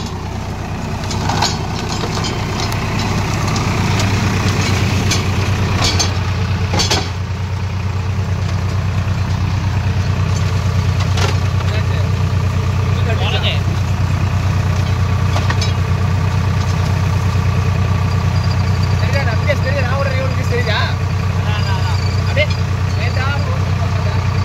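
Swaraj 963 FE tractor driving a Lemken 18-blade mulcher across rough stubbly ground with stones and stumps, giving a loud, steady, low engine drone with mechanical rattling throughout, and a voice talks over it.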